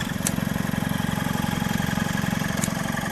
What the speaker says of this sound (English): There's the compressor cycled on.